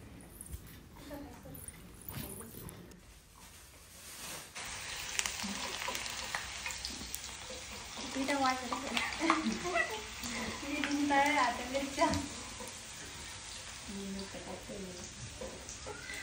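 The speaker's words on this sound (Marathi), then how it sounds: "दीदीचं चालू आहे लगेच मिरच्या तळायचं काम" Green chillies fry in hot oil with a soft, continuous hiss and sizzle that rises in the middle, fairly faint, with indistinct voices murmuring in the background.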